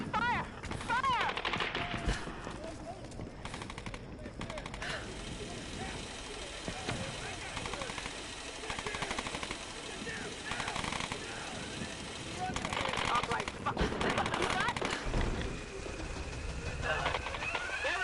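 Gunfire in the video game Tomb Raider (2013): dense, sustained shooting and explosive bursts filling the scene, mixed with shouted voices throughout.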